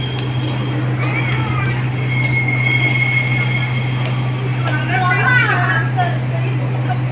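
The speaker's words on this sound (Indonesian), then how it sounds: "Terdiri dari rangkaian 7 gerbong, melakukan tuh langsiran kereta" A seven-car train rumbles with a constant low hum during shunting while metal wheels squeal in high scraping bursts, voices faint in the background.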